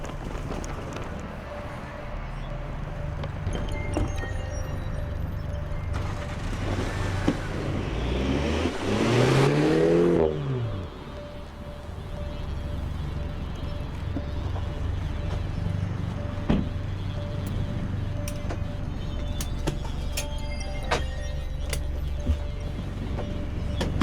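Mini cars start a track race with a Le Mans start, an engine revving up and passing loudly around the middle, then fading into wind noise and a steady outdoor rumble.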